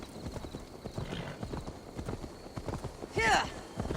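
Steady clip-clop of horse hooves on a hard surface in the video game Assassin's Creed Valhala, with someone talking over the hoofbeats and a brief whinny near the end.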